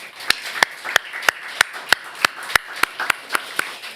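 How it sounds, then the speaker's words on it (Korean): A church congregation at a Thanksgiving service claps in steady unison, about a dozen sharp, evenly spaced claps at a brisk, regular beat, with no voices over them. "크게 박수 한번 할까요?"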